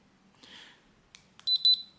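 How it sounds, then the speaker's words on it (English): An Olynvolt pocket portable rechargeable TENS muscle stimulator unit beeps while switching modes: two short, sharp electronic tones in quick succession near the end, preceded by faint handling clicks in an otherwise quiet room. "press mode, we can hear twice the beep."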